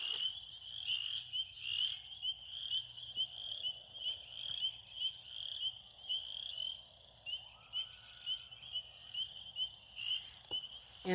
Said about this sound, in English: frogs are getting active again.